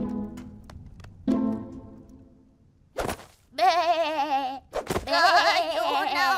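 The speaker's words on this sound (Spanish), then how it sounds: "¡Hay una oveja!" Cartoon sheep bleat in loud wavering cries, a couple of close bleats separated by a sharp whack, following some earlier brief sounds.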